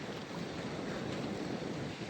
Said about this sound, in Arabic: نحن في البحر والامواج تنطحنا.